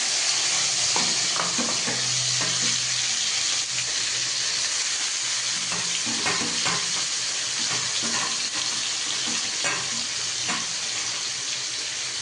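Onion, chili, garlic and ginger crackle and sizzle in hot oil, a steady bright frying hiss running throughout with intermittent stirring clatter and scraping, close and fairly loud.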